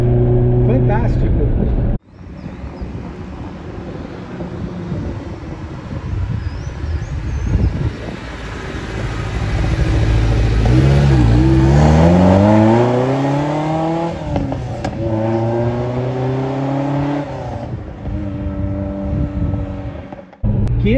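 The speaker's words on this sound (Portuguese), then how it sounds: "esse carro, ele realmente está com o motor bem redondinho" A Ferrari 308 GTS engine runs smoothly, with a close, steady drone that rises in pitch as it revs and then settles back, a continuous mechanical tone lasting most of the stretch.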